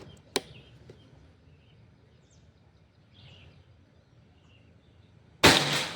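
A sharp Predator air rifle crack near the start, then a quiet stretch of faint ambient noise before a loud, abrupt burst at the end.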